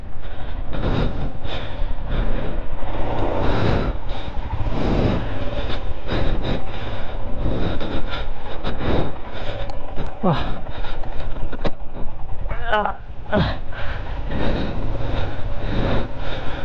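A vehicle off-roading on a long muddy track makes a continuous loud engine roar with rattles and surging revs throughout, with occasional voices over it.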